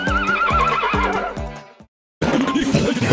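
A horse whinnies in a loud, wavering neigh over rapid hoof clip-clops, followed by a brief silence and then a burst of noisy sound.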